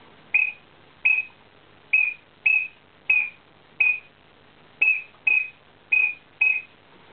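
A duck call imitating a male teal gives about ten short, bright whistled chirps in an uneven rhythm, close and clear against a quiet background.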